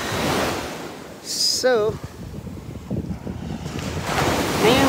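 Sea waves washing onto a shore in steady surges, with wind buffeting the microphone, a brief whistle-like tone, and a person speaking briefly over the surf.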